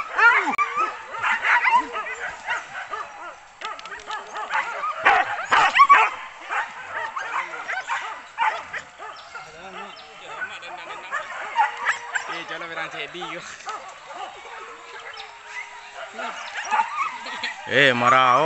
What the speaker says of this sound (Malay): Marau kata anjing.